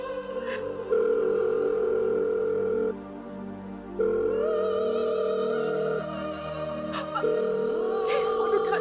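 A telephone rings out on a call while someone waits for an answer: long steady electronic tones, about two seconds each, with short pauses between, clear and fairly loud, with faint sounds near the end.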